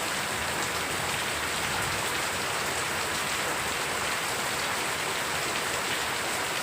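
Steady heavy rain pours over a village farm field, a dense, even hiss of drops on surfaces that continues without break.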